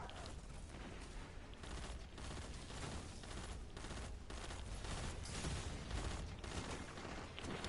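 Sustained pulse rifle gunfire in Destiny 2, with dense, continuous bursts of shots and explosive booms layered over a loud, busy combat soundscape.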